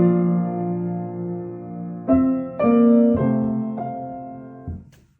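Solo piano plays a slow, lyrical passage of Schumann's Träumerei, Op. 15 No. 7, with sustained chords that ring and change several times as the pedal is applied, then fade out.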